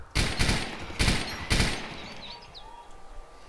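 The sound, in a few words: machine gun full-auto fire at firing range, Arma 2 video game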